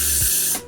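A short hissing burst from a can of Got2b glue spray, applied to eyebrows, lasts about half a second, close and loud, then cuts off.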